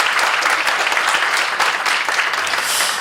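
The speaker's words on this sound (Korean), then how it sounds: "박수 한번 부탁드리겠습니다" An audience at a 2025 media and public-relations training lecture breaks into loud, sustained applause, dense clapping running steadily throughout with no break.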